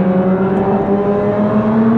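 Lotus Emira sports car at speed on a race track, a steady, loud engine drone heard from inside the cabin, holding a constant pitch throughout.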